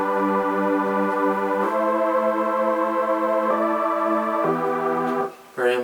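Sustained synth chords from the Nexus plugin, warm and smooth, shifting through several chord changes before a brief dip and a brighter final chord, with no talking.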